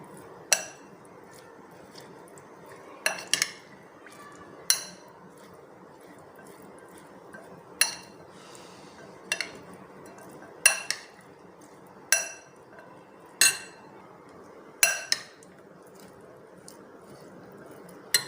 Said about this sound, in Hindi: सारे स्पाइसेस डालेंगे और अच्छी तरह मिक्स कर लेंगे।